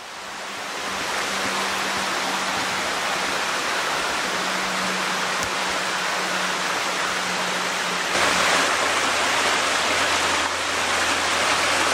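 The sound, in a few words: creek water flowing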